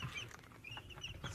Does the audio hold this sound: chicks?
yes